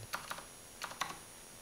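A handful of quick, quiet keystrokes on a computer keyboard arrive in two short bursts with a pause between them, close and clicky against a low background hum.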